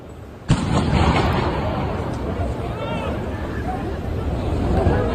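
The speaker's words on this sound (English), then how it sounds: "two loud explosions clearly heard in that video" A single sharp, loud blast like a gunshot rings out early during the assassination attempt on former Japanese Prime Minister Shinzo Abe, followed by a sustained roar of crowd noise and outdoor commotion.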